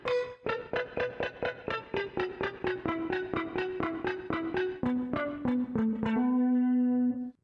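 Electric guitar played through the reverb effect of a Headrush Gigboard, a steady run of plucked notes and chords descending in pitch, each with a reverb tail, ending in a sustained ringing chord.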